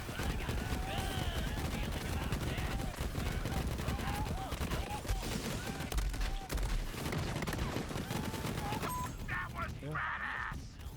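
The Ogre assault rifle fires in Borderlands 3, played as Moze in a non-consecutive-hit version: steady, dense automatic fire runs almost the whole time, mixed with game effects, and a voice talks over it.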